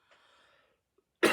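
A single loud cough bursts out at the end, preceded by a faint breathy throat sound and near silence.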